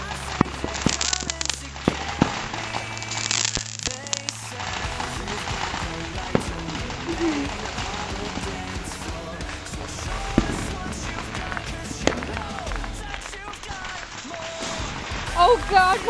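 Fireworks and firecrackers going off outdoors over grass, a dense run of sharp bangs and crackling pops, with people talking throughout.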